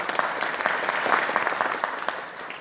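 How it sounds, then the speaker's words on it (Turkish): An audience at a Tekirdağ commemoration program for the anniversary of the Turkish alphabet reform applauds, a dense, continuous round of clapping at moderate distance that stays steady throughout. "kuvvetli alkışlarınıza bir kez daha teşekkür ediyorum"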